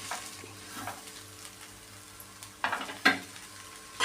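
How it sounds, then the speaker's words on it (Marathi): Coriander and green chillies sautéing in a pan for an onion, coconut and egg masala, a soft steady sizzle with occasional sharper scrapes and stirring clatters, no voices. "मुठभर कोथिंबीर आणि मिरच्या घातलेल्या आहेत आणि हे देखील आपण चांगलं 2 मिनिटं परतून घेऊया"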